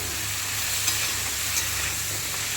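Taro chunks fry in a pan with salt and turmeric, giving a steady, even sizzle that runs unbroken at moderate loudness with no voices.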